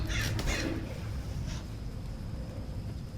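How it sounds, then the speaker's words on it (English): A crow gives a couple of harsh caws near the start and a fainter one shortly after, set against a steady, windy background roar. "That's just a crow hawking."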